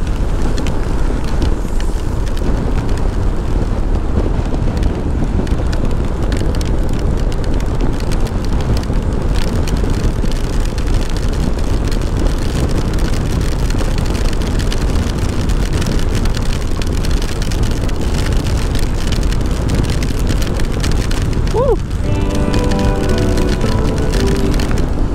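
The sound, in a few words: riding a Honda ADV-150 scooter through rain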